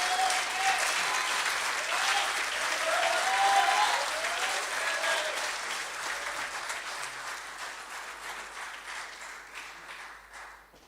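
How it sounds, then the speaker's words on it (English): Sustained applause from a crowd at a rugby referees' annual awards dinner, loud and dense at first, then slowly thinning and fading over about ten seconds, with a few faint voices underneath. "Give him another round of applause, please."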